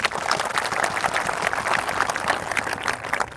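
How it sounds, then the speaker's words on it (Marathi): An audience claps for trainees who came from Nandurbar, at a protest gathering in Nashik. Steady, dense applause from a crowd runs throughout at moderate loudness. "नंदुरबारवरून मोठ्या संख्येनं या ठिकाणी प्रशिक्षणार्थी आले त्यांच्यासाठी एकदा जोरदार टाळ्या वाजवा"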